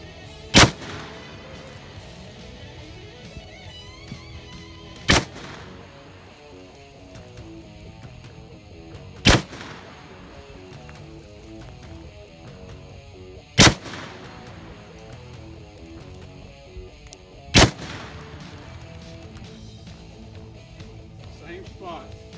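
Five sharp, loud rifle shots ring out at spaced intervals during a field test of a budget red/green dot sight, with a steady background din between them.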